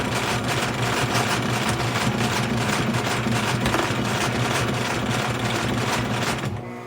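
A sewing machine zigzag stitches over fabric with matching thread while mending, running in a fast, steady mechanical rattle close up that stops near the end.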